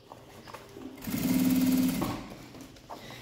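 A sewing machine runs a finishing seam along a bag lining, a steady mechanical whir rising for about a second and then stopping, close and fairly loud with quiet moments before and after.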